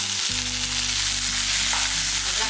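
Small shallots, ginger and coriander leaves frying in a pan for festival-style mutton kuzhambu, a loud continuous close sizzle over a steady low droning hum, with no talking.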